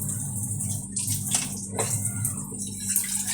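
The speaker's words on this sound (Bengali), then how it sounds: "এই যে জন্য উচ্ছে ধুচ্ছি" Bitter gourd being washed under a running kitchen tap, a steady close stream of water with faint splashes and handling sounds throughout.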